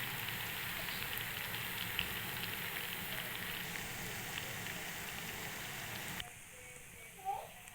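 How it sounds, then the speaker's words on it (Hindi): Steady crackling sizzle of garlic frying in hot oil for Kashmiri kadhi, fairly close, continuing for several seconds before quieting near the end. "अब हम ये लहसुन का जो है वो तड़का बना रहे"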